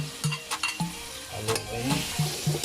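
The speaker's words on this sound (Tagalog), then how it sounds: "mainit yung mantika. Ilagay na natin yung tuna." Canned tuna dropped into hot oil in a pan for spicy tuna sisig, crackling and sizzling steadily while a utensil stirs and taps the pan in a loose rhythm.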